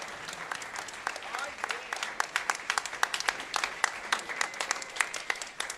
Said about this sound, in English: Let's have another round of applause for the Varsity Jazz Band and Symphonic Jazz Band.